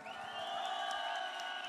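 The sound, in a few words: audience applauding the musicians at a concert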